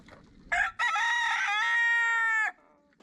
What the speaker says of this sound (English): And then came Rupert, the rooster that didn't belong.